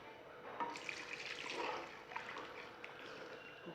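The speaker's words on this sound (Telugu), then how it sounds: "మనం ఇంకొక గ్లాస్ వాటర్ వేస్తున్నామండి." Glass of water poured into a pan of sweet corn Manchurian gravy, a soft, faint splashing pour lasting a few seconds with no talking.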